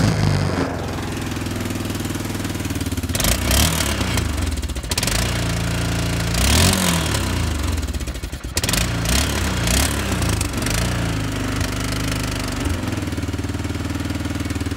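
A quad ATV's engine being started in cold weather: it cranks and catches, revs roughly with a couple of sputtering drops, then settles into a loud, steady, close idle with no talk.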